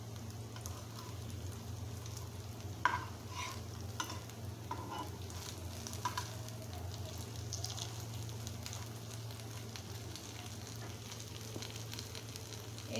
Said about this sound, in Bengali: আমি একটু উল্টিয়ে পাল্টিয়ে ভেজে নিচ্ছি।